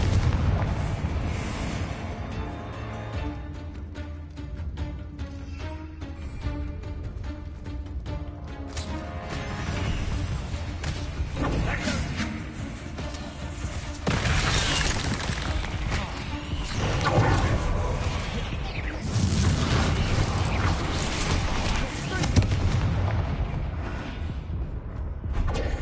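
Confringo spell blasts in Hogwarts Legacy catacombs, heavy booming explosions and crashes rolling through dense, continuous combat noise with occasional voices.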